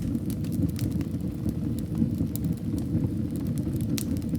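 A fireplace wood fire in a snowbound Swiss mountain cabin gives a dense, steady rumble with scattered crisp crackles and snaps, close by and constant throughout, with no one speaking.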